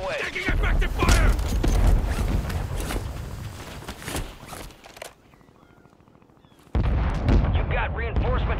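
Dense incoming gunfire and artillery rumble in Warzone cut out into a brief quiet lull, then the loud barrage resumes abruptly.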